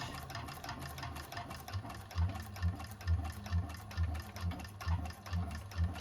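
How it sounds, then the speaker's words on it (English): A 1341 cylinder arm sewing machine stitches a seam down a bag in steady runs, its low motor hum pulsing with each burst of stitching, moderately quiet with no talking. "Now we just sew the rest of it all the way down"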